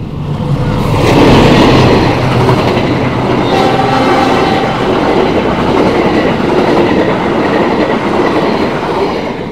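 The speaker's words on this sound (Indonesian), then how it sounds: "Kereta di stasiun Seruang sudah lewat jam berapa nih, 6:30 pagi, berangkat ke Jawa Timur kayaknya" A train passes through Seruang station in the early morning, bound for East Java: a continuous loud rumble with rattling wheels, steady throughout at close range.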